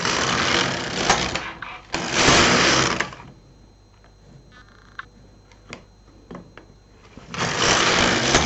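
An LK 150 knitting machine carriage sliding across the needle bed, three loud rasping, whirring passes about a second long each, separated by quiet stretches of small clicks and needle taps.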